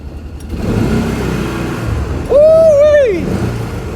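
A side-by-side UTV's engine cranks and catches, then runs with a loud rising rev for about a second before settling back, close by, with rough mechanical noise and some background voices before it.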